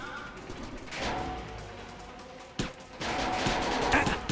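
Gunfire in the video game Far Cry Instincts Predator, a few sharp shots and bursts over game background noise, with a louder crack midway and a dense stretch of firing near the end.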